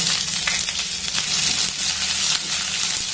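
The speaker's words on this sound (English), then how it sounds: "Fry the onion till it turns soft and aromatic." Thinly sliced onion fries in hot oil with curry leaves, a steady, close sizzle and crackle with no one speaking.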